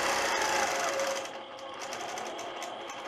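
A sewing machine stitches freehand quilting with clear thread on a Grinch quilt, its fast, dense needle chatter running close and continuous, easing slightly in pace after the first second.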